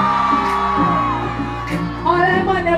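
A crowd of women screams and whoops at a birthday party in 2019, sustained and loud over dense music.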